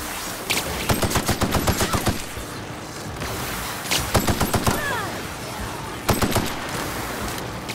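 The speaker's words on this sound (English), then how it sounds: "I like this assault rifle." Rapid assault rifle fire in the sci-fi shooter The Outer Worlds, loud and close, arriving in three distinct bursts of quick cracking shots separated by short pauses, with no talking.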